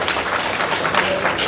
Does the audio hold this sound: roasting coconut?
no